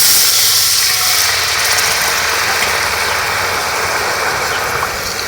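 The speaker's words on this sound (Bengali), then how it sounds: "এবার দিয়ে দিচ্ছি জল।" Water poured into a hot pan of spices, salt and kasuri methi hisses and sizzles loudly and steadily, a dense continuous steaming wash that eases slightly toward the end.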